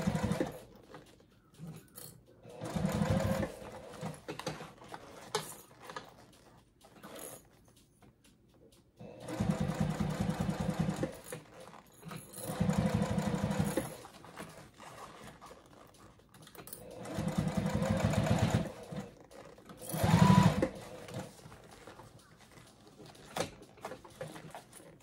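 A sewing machine stitches black thread around a Sallie Tomato circle bag, running in several steady bursts of rapid stitching separated by quiet pauses and small handling noises.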